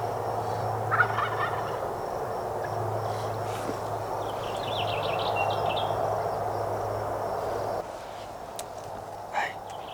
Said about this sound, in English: Those gobblers haven't moved.